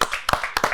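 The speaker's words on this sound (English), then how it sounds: "Round of applause, please." Brief handclaps from a podcast audience, three sharp close bursts within under a second, loud and dry with no talk over them.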